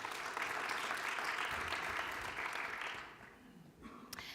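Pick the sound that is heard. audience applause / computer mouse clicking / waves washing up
audience applause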